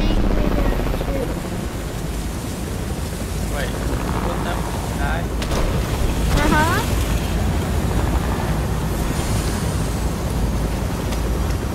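A helicopter's steady droning rumble in Fortnite runs throughout, loud and close, with brief voices talking over it partway through.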